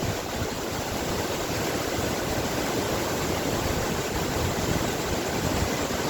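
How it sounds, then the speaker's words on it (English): The Devil's Punch Bowl waterfall at Arthur's Pass in New Zealand's South Island gives off a steady, broad roar of falling water that stays loud and constant throughout, with no voices over it. "We made it to the Devil's Punch Bowl waterfall."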